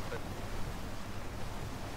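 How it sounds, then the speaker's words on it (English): Ocean waves wash in the video game Valheim, a steady low rushing surf with wind noise, fairly faint and continuous throughout. "We have waves."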